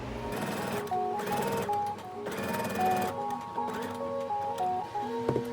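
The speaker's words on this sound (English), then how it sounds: "pinned them and sew on the sides. Sew a straight stitch at half an inch." Sewing machine running a straight stitch down the sides of men's dress pants being converted into capris, in bursts of rapid mechanical stitching with short pauses between runs; no talking.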